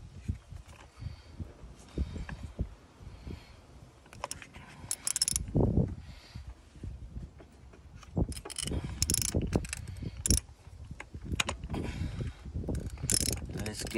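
A ratchet with a spark plug socket clicks and turns on a 2012 Honda CR-V engine, giving irregular mechanical clicks and clanks at close range, with some faint handling noise in between.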